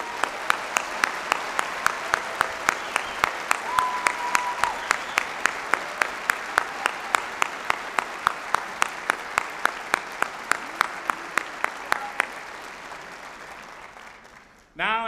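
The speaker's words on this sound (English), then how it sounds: "Please join me in a round of applause for them." A large audience applauds steadily for about fourteen seconds at a spring 2022 university graduation ceremony, a dense continuous clapping that fades out near the end.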